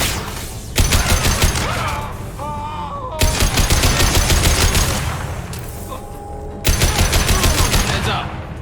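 Sustained bursts of rapid automatic gunfire in the Mass Effect 2 video game, loud and close, with brief pauses between volleys and electronic tones beneath.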